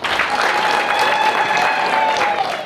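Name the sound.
crowd applauding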